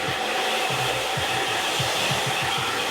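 A hair dryer blows steadily and loudly at close range while a man's medium-length hair is dried. The even roar never stops and is marked by soft rhythmic buffeting as the airflow moves through the hair.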